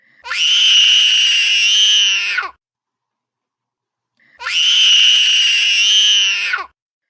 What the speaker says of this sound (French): Dès qu'elle touche à ses jouets, il se met à hurler.